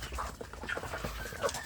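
Hens and a rooster kept as breeding stock cluck in short, scattered calls, a little distant, against a steady farmyard background.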